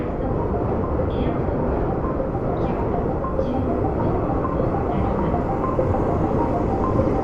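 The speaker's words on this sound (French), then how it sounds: "Il y a un train qui arrive, je pense." A train pulls into a snowy station in northern Japan, producing a loud, continuous rumbling roar with faint higher squeals of wheels and brakes running throughout.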